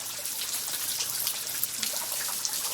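Steady rain falls outdoors, a dense hiss of drops pattering on surfaces with scattered louder splashes, continuous and fairly close throughout, with no talking.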